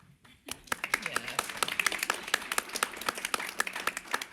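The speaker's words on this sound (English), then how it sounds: "We do indeed deserve applause." A small group claps at a disability advisory committee meeting after a report is adopted, a scattered burst of separate, distinct hand claps that begins after a brief quiet moment and continues at a moderate level, sounding close and thin rather than like a large crowd.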